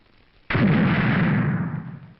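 A single firecracker bursting as a temple offering, one sudden loud boom followed by a long rumbling decay, no speech.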